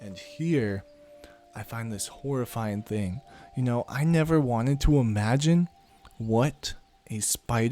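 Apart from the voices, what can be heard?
No everyday noises stand out.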